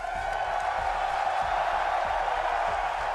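Arena crowd at the BLAST.tv Austin Major 2025 esports semifinals roaring steadily for a team, a dense sustained wall of cheering with no break across the moment.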